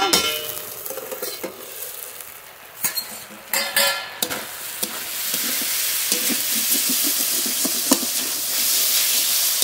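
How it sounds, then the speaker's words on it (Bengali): Pointed gourd and onion stir-fried in a pan, a steady sizzle and hiss under repeated scraping and stirring strokes, with a few louder clattering knocks near the start. "পটল আর পেঁয়াজ নেড়ে নেড়ে একটু ভেজে নিয়েছি।"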